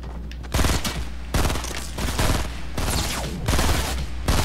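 Burst weapon firing in Fortnite, loud rapid bursts of gunshots in several separate volleys spread across the moment, close and sharp with no talk over them.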